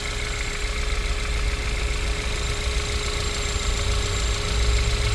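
A Hyundai Kia 1.6 GDi engine idles smoothly and steadily, heard up close for several seconds with an even mechanical hum, a faint ticking texture and a thin high whine.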